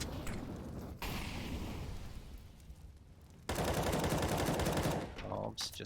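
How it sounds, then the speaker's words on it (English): Rapid bursts of AK rifle fire in a Counter-Strike match on the Nuke map, dense and continuous at first, then louder and heavier after a sharp jump midway, with faint talk underneath. "A couple of AK rounds coming through from Triumph"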